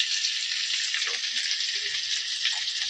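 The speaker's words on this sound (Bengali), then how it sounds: "দেখো বন্ধুরা, আলুটা আমার একটু ভাজা ভাজা হয়ে এসছে" Boiled potatoes for a vegetarian aloo dum fry in a pan, giving a loud, steady, close sizzle that runs without a break throughout.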